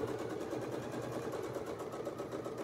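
A sewing machine stitches a quilt seam, giving a steady, fast, even mechanical whir with a light rhythmic needle patter close by, alone and unbroken throughout.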